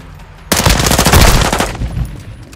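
Automatic gunfire in Call of Duty: Modern Warfare II rattles out in a loud, rapid burst of about a second and a half, each shot crisp and close, then fades into a softer tail.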